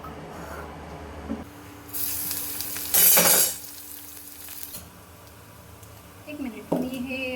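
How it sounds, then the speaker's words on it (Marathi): Cumin, mustard seeds and garlic tempering in hot oil for aloo paratha, bursts of sizzling and crackling that flare loudly then die back, with stirring and kitchen clatter in between. "ह्याला ना जिरी मोहरी आणि लसूणची फोडणी देणार आहे."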